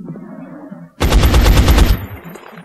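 Rapid automatic gunfire rings out in X-COM Enemy Unknown as soldiers shoot at charging flying cybernetic enemies, a dense burst of roughly a second that rises suddenly from quieter game ambience and then fades into a lingering tail.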